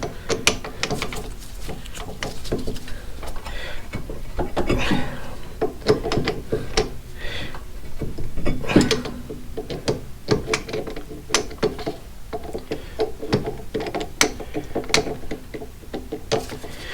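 Hand ratchet clicking in quick bursts as the oil drain plug on a Chevrolet Malibu is turned back in, close and dry, with brief pauses between strokes.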